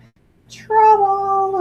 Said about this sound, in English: Your cat heard you talking and didn't like it.